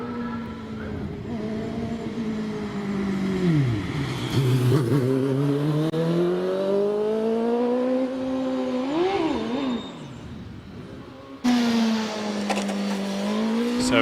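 A CF04 carbon-fibre tub hillclimb race car runs at a championship hillclimb at Prescott, its engine loud and close, climbing and falling in pitch through gear changes, with a sharp rise near the end.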